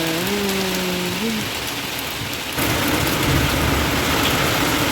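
Steady hiss of rain falling, dense and continuous, with a passing tonal whine early on and the rain growing slightly louder halfway through.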